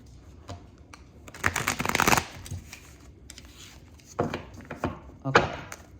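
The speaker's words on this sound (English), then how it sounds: "Let's get one more shuffle in for Cancerians." Tarot cards are shuffled by hand in a few quick bursts of papery riffling and slapping, close and fairly soft, with quiet pauses between the shuffles.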